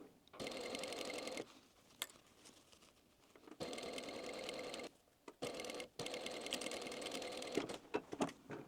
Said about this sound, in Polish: rozpinam zamek i przeszywamy już do końca.